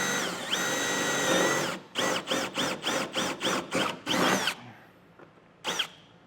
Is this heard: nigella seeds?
no